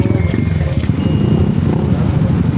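Low engine rumble of a motorcycle nearby, steady and loud throughout with brief higher clatter, no speech.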